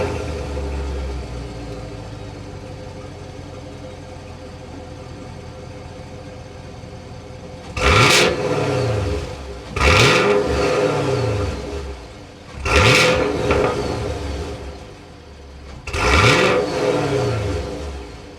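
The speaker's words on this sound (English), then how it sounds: "start it up, and hear that exhaust note." A 2022 Chevrolet Camaro SS with a 6.2-liter V8 revs four times in loud, close bursts. Each blip swells and falls back to a steady idle, with no talk over the deep exhaust.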